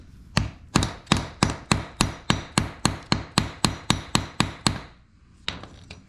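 Hammer blows drive a chisel into a wall during home-addition demolition, about fourteen sharp, evenly spaced metallic strikes close by, a short pause, then two more hits.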